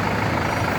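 Heavily loaded truck on an Indian road, a loud, close, steady engine rumble with dense broadband road noise and no talking.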